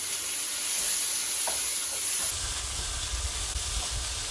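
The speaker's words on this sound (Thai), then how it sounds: "ผัดจนเกือบสุกนะคะ" Pork and garlic stir-fry in a wok over an industrial stove, giving a loud, continuous sizzle and hiss with a heavier roar of burner and frying setting in partway through.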